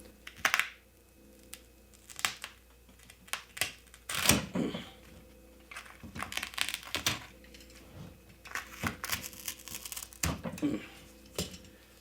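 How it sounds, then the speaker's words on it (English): A new razor knife cutting ultra-high-molecular-weight polyethylene body armor: scattered short scraping and slicing strokes, close but quiet, with irregular gaps between cuts and no talking. "This is a new razor knife"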